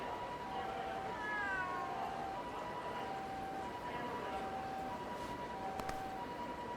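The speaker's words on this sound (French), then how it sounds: "Ah c'est un chat." A cat meows in the video game Like a Dragon Gaiden, with several faint, drawn-out meows over a low, steady game background.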